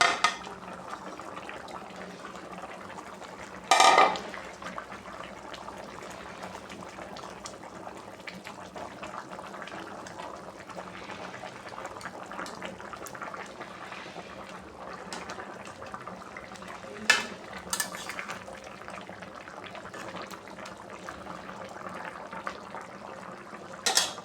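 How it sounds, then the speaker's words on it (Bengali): Tilapia pieces go into a boiling curry in a pan, with a soft steady bubbling and simmer throughout, broken by a couple of brief metallic clanks and splashy knocks, fairly quiet and with no talking. "তরকারিটা বলক উঠে গেছে, আমি মাছটি দিয়ে দেব।"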